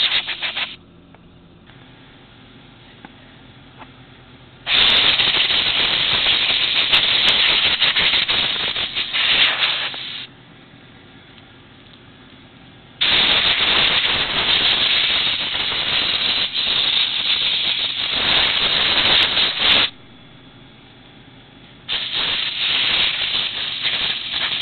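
Compressed air blasts loudly in long hissing bursts to blow cleaner out of sweep wagon drive chains, with quieter gaps of rubbing and handling between the blasts.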